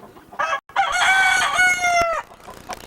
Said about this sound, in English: The chickens trying to have little chickens.